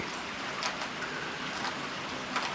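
Steady rain patters down, a soft broadband hiss with scattered drops tapping on surfaces, fairly close and even throughout.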